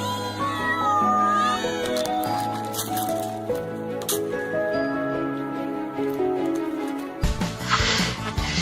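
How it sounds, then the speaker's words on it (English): Several hungry cats meow loudly and overlap in a small cat house, their wavering cries continuing almost without a break before a sudden burst of scuffling noise near the end. "hungry cats cry loudly until their owner throws food"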